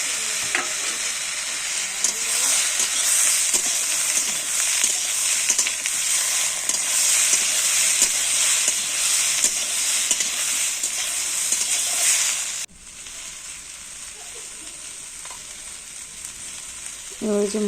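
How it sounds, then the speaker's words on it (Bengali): Tomato and green peas fry in a wok with onion and beans, cooking for a Bengali fish curry. A loud, continuous sizzle carries repeated stirring scrapes, then quietens abruptly to a softer hiss near the end. "এর মধ্যে টমেটো আর কড়াইশুঁটিটা দিয়ে দিলাম"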